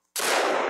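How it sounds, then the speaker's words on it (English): A single sharp gunshot fires in a Bigfoot hunting multiplayer video game, a sudden close blast with a brief sustained tail. "keep shooting"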